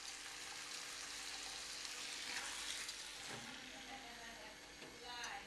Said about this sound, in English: so we're going to just fry up the pieces